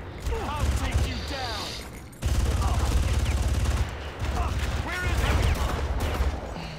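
Gunfire in the video game Far Cry during a firefight: dense, rapid bursts of automatic shots crackle almost continuously and loudly, with a brief pause partway through.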